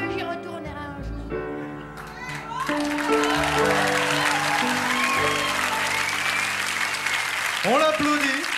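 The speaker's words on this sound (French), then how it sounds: "On l'applaudit comme elle la mérite" A studio audience bursts into applause after a young girl's song on a children's talent show. The clapping swells and holds steady under a host's voice as the last sung notes fade.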